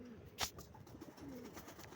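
Soft, low cooing from pigeons, close and fairly faint, with a brief flutter or rustle early on and no talking.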